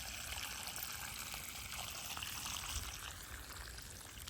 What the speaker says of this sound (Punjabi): ਪਤਲਾ ਪਤਲਾ ਪਾਣੀ ਲਾਉਣਾ ਜੀ